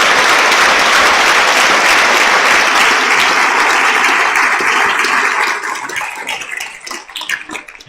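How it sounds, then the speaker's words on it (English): A school assembly audience applauds in a dense, loud wash of clapping that holds steady, then thins into scattered claps as it fades toward the end. "So please give yourselves a round of applause for that."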